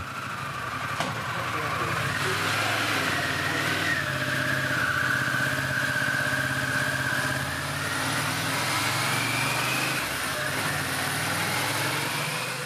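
A motorcycle engine on a test run sweeps through its full rev range, a loud, sustained drone that climbs in pitch and then eases off, with a voice talking over it.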